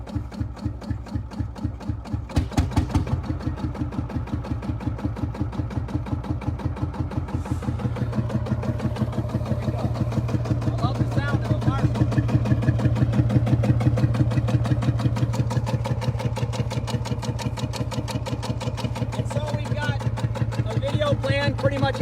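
Fowler VF crawler tractor engine running, a rapid steady chugging idle with even firing pulses, close and loud, with people talking over it.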